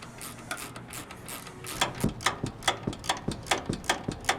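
A ratchet on a 15 mm socket turns the shock bolts on a 2021 Ford Bronco, giving a steady series of close, crisp clicks that grow sharper and more evenly spaced in the second half.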